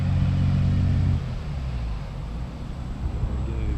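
A red truck drives past on a rural road, its low engine rumble strongest at first and then easing to a steady distant drone with no talk.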